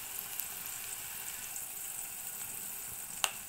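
Curry leaves added to hot oil with browning onions and green chillies, for a ridge gourd and prawn curry, giving a steady, quiet sizzle throughout with one short sharp crackle near the end.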